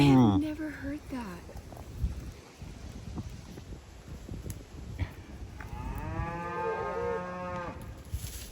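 A cow lets out a long, brassy, bugle-like moo that wavers in pitch, heard close outdoors with wind noise, after earlier shorter calls and with a few soft voices around.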